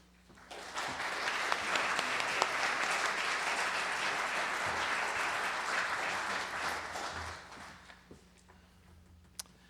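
A hall audience claps steadily for about eight seconds to welcome a speaker at a lecture on American collectors of Chinese ceramics, then the applause dies away into quiet room tone.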